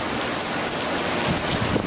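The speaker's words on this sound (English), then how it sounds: "it's raining, my camera's soaked" Rain pours down steadily around a 2002 Honda Odyssey outdoors, a dense, loud, continuous hiss of drops with no voices.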